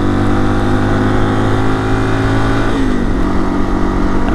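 A 17-year-old Yamaha XT225 motorcycle engine running smoothly and loud, a constant close-up droning hum with a slight pitch dip partway through.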